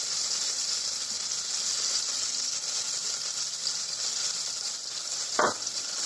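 Food sizzling steadily in a hot pan, a constant frying hiss with a brief clunk near the end.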